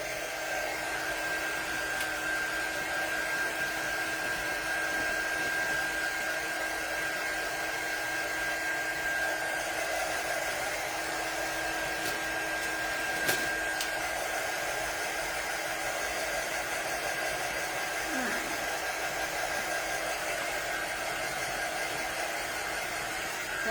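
Constant close whir of a hair dryer blowing on fresh paint on a box frame, running unbroken throughout, with only a couple of faint knocks and no voices.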